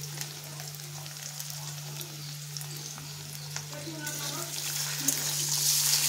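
Chopped potatoes and onions sizzle steadily in a pan on a lowered gas flame while being stirred, a soft continuous hiss with faint scraping, growing slightly louder; a low steady hum runs underneath.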